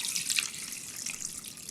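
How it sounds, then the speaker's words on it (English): Water poured into a bowl for washing berries, about three cups, a soft steady splashing trickle for under two seconds, close and quiet with no voices. "I'm going to combine about 3 cups of water"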